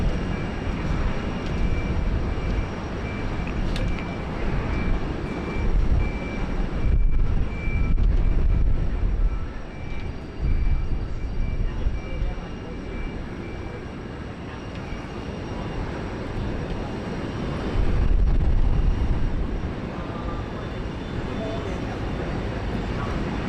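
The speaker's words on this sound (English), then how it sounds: "Our next arrival here, QJet 1508 coming in from Canberra. It's a 717." A QantasLink Boeing 717 jet arrives at Sydney Airport, a broad rumbling engine roar that swells and fades in waves, heard from a distance outdoors.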